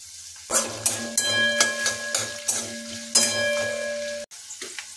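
Chopped garlic and green chili frying in oil, a close crackling sizzle that swells in repeated bursts over a steady tonal hum, then cuts off abruptly near the end, leaving faint scattered clicks.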